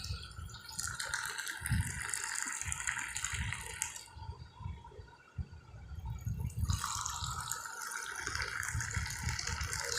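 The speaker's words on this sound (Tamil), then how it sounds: "இப்போ டீ வந்து டம்ளரில் ஊற்றிக்கலாம்." Hot cardamom tea poured into a tumbler, a close, steady liquid stream with light rattling, broken by a brief pause before pouring resumes.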